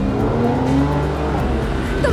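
A car engine hums loudly and continuously as the vehicle drives, its tone rising slightly in a steady near drone.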